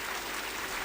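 Students in a hall clap in a faint, distant patter that runs for a moment under ambient room noise.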